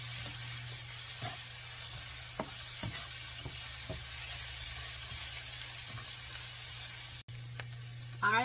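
Food cooks in a pan until softened and translucent, giving a steady, even sizzle that runs throughout at moderate level. A few light clinks and stirring taps break in, and a louder clatter comes near the end.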